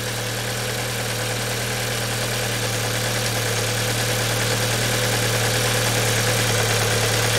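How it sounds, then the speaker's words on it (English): An Audi engine idles steadily after a cam chain and tensioner replacement, its fuel injectors ticking rapidly and evenly over a constant low mechanical hum, close and loud throughout. "That loud leaking noise you're hearing is the injectors firing."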